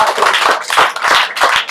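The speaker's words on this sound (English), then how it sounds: "Let's give the Lord a clap of" Church congregation clapping in praise at a devotional gathering, a lively burst of many hands with quick uneven rhythm, close and fairly loud, with no talk over it.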